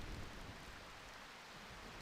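Rain in the video game Final Fantasy IX, a faint, steady hiss of falling rain, heard alone.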